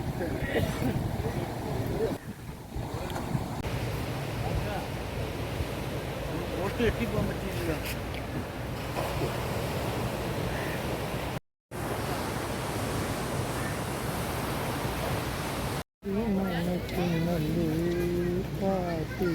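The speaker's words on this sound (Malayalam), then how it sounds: "തിരമാലയ്ക്ക് ശക്തി കൂടുന്നുണ്ടല്ലോ" Ocean waves surge and break steadily at a beach as the surf grows stronger, a continuous broadband wash with people talking over it throughout.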